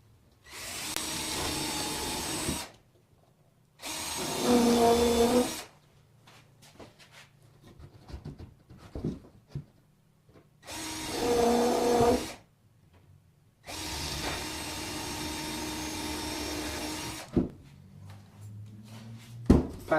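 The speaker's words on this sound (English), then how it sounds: "Now we do the same procedure, drilling the pilot holes." A power drill bores pilot holes into a wooden frame, with several loud sustained whirring bursts of a few seconds each separated by quiet pauses and small handling knocks.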